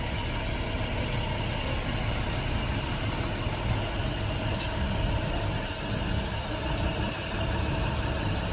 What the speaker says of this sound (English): he got one of them old trucks too